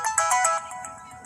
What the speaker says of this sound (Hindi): पवन इसी उधेड़-बुन में था कि पवन का मोबाइल बजा।